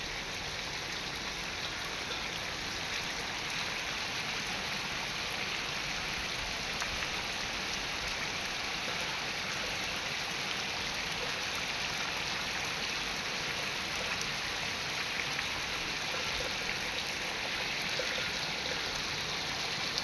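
Heavy monsoon-style downpour falling steadily over farmland, a dense, unbroken roar of rain close by that holds at an even level throughout, with no voices.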